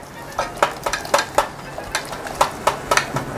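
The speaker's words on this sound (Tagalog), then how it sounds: "gamit tayo ng whisk para matunaw yung ating flour na linagay" A whisk clinks and scrapes rhythmically against a pan while dissolving flour in liquid for a garlic chicken dish, roughly a dozen sharp metallic taps at a quick uneven pace, close and clear without talk.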